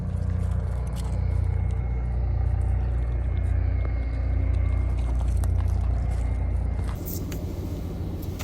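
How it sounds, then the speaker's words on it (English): Steady low rumble of a car interior while driving away from a desert camp near Quartzsite, a continuous engine and road drone filling the whole stretch with slight swells and a brief lighter patch near the end. "we're in the car again, leaving camp."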